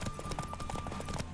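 A horse galloping in the video game The Witcher 3, a fast, steady clip-clop of hooves at moderate volume, held under a continuous game soundtrack tone.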